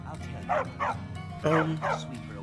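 A dog in a video game barks and whimpers in two short yipping bursts, each a quick pair of high, whining barks, close and clear over a low steady background hum.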